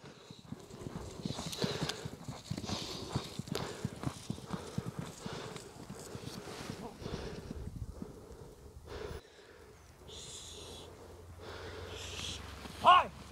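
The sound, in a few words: horse galloping, hooves clip-clopping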